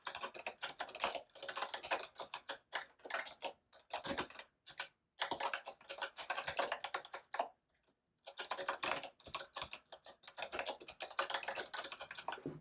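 Computer keyboard typing in quick bursts of close key clicks, broken by a few short pauses, with no speech.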